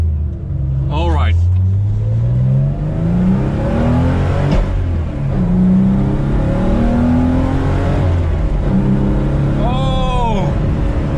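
A 1986 Porsche 911 wide-body Elmerhaus on a test drive, its engine heard from inside as it rises through the revs in several pulls, loud and close, with gear changes between them and a voice talking over it.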